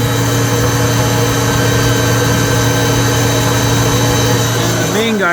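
A 1998 Citizen Cincom L-20 Swiss-type CNC lathe with its spindle at 7,000 RPM gives a steady, fairly quiet machine hum with constant tones, close by and alone until a brief rising whine at the very end.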